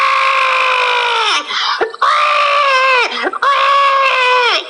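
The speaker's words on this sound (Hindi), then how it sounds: "सुबह होते ही चुड़ैल का बच्चा रोने लगता है" A cartoon witch's baby wails in three loud, high-pitched bursts, each cry sliding and wavering in pitch, with brief breaths between them and no other sound.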